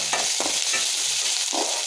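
Ginger garlic paste frying with onions and green chilli in a pan, a steady bright sizzle with soft stirring scrapes recurring in short bursts, close and alone without any voices.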